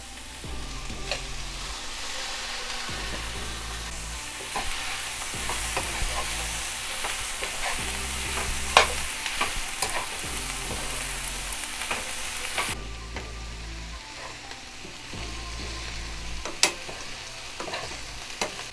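Beef and broccoli sizzle steadily in a pan while being stir-fried, a constant hiss with repeated scraping and stirring strokes and occasional clinks, no talk.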